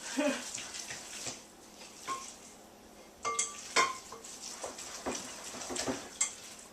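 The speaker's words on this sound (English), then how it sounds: "mix it really well so you don't have any big lumps of anything" Cornbread batter with cheese and chilis is mixed in a bowl. Close, irregular clinks and scrapes of a utensil against the dish come and go over a quiet background.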